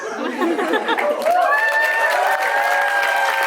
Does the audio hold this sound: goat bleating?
no